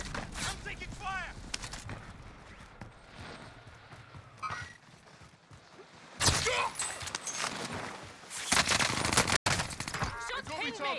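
Gunfire in Warzone on Rebirth Island, sharp bursts of shots arriving in clusters toward the end, mixed with game noise and a voice talking over the action.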